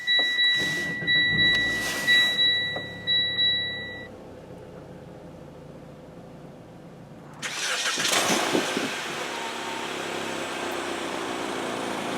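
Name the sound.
2017 Mitsubishi Lancer SE engine starting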